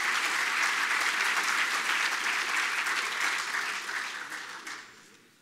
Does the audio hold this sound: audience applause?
yes